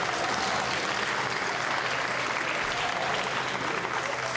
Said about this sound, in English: And Yuriko Ichihara, white card, massive applause